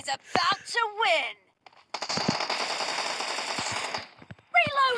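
Automatic rifle fire rattles in PUBG, two sustained bursts of rapid gunshots heard between stretches of excited speech in Turkish.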